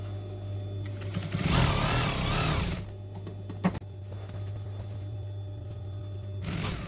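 Domestic sewing machine stitching velvet fabric runs in a loud close burst of rapid whirring, then brief clicks and handling noises during a pause, before starting up again at the end.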